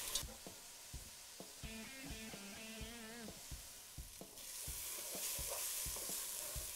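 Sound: onions and vegetables sizzling with pancetta in a pan

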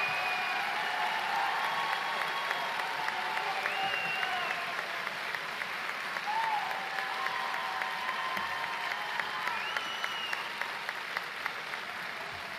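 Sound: audience applause for taxation degree graduates

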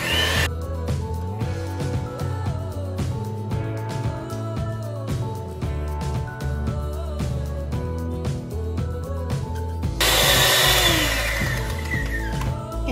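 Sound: electric hand blender mixing cake batter

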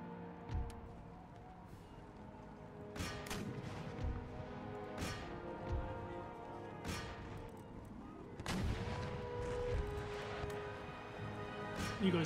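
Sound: artillery firing shrapnel shot in Empire: Total War video game

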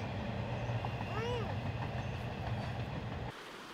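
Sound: train passing

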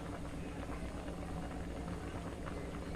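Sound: red rice milk kozhukattai mixture boiling in pot

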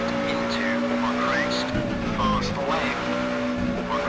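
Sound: rally car driving in video game Richard Burns Rally

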